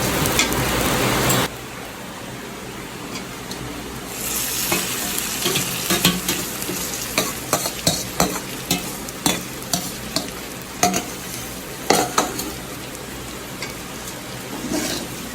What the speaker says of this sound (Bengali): এখন এই দুইটা সুন্দর করে আর একটু কষিয়ে নিব।